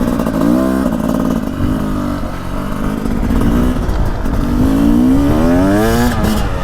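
A 2024 Beta 300 Race Edition two-stroke 300cc dirt bike engine accelerates in a slow, building rise, its loud buzzing tone climbing in pitch close by with no speech.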